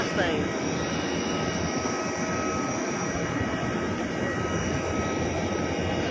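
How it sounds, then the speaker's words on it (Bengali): Aircraft engines drone steadily as airplanes are moved on the ground at Hazrat Shahjalal International Airport during a fire, a continuous loud hum with faint voices in the background. "বিমানগুলো সব সরিয়ে নেওয়া হচ্ছে"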